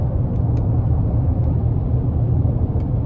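A 2026 Hyundai Palisade SE with front-wheel drive accelerating hard, heard from inside the cabin as a loud, steady low engine and road rumble with no talking.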